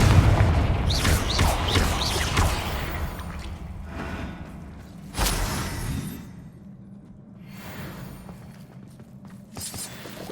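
A Confringo spell explosion in Hogwarts Legacy, heard as a few booming blasts and thuds in quick bursts, loud and close, with a sharp burst near the middle trailing into quieter rumble.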